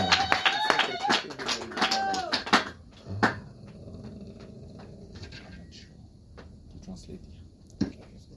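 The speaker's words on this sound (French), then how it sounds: "Let's put our hands together for the glory of the King of Kings." A church congregation at an evangelistic Rehoboth Church Ministries service breaks into sustained, crowd-wide applause after a loud voice calls out, with a few sharper claps and crowd noise continuing under the steady clapping.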